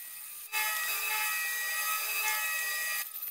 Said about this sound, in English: switch to a hand drill, which has a lot more torque.